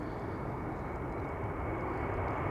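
A Turkish Airlines jet departing Amsterdam Schiphol for Istanbul gives off a steady, broad engine roar that holds level and unbroken throughout, with no voices.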